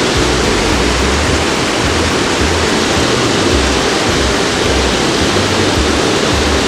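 A waterfall pours with a dense, loud, continuous roar of rushing water, steady and unbroken from start to finish, with no voices.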